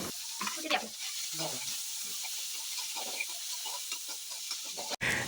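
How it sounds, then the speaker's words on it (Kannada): Chopped capsicum and onion frying in a kadai, a continuous crackling sizzle with scraping stirs, a faint voice in the background and a sharp knock near the end. "ಕ್ಯಾಪ್ಸಿಕಮ್ಮು ಮತ್ತು ಈರುಳ್ಳಿ ಏನು ಹೆಚ್ಕೊಂಡು ಇಟ್ಕೊಂಡಿರ್ತೀರ ಅದನ್ನು ಆ ಕ್ಯಾಪ್ ಕಡಾಯಿ ಒಳಗಡೆ ಹಾಕಿ ಕ್ಲೀನಾಗಿ ಫ್ರೈ ಮಾಡಿ"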